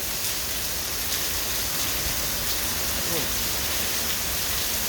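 Heavy rain pours down steadily, a dense, even roar of drops with no pauses, close and loud throughout.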